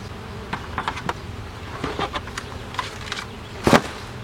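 Honeybees buzz around an opened beehive, a dense droning hum with individual bees passing close, one loud fly-by near the end, and no talking.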